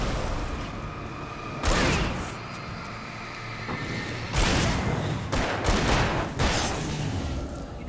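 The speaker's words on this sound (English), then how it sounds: "Got a bunch of them here, so flashbang." A flashbang grenade detonates in Alan Wake, with loud, close blasts and gunfire bursting out several times over a constant roar of battle noise.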